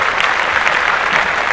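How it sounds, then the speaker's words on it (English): A short burst of clapping, several quick claps close by and fairly loud, heard alone without talk. "I'm gonna give that a little clap."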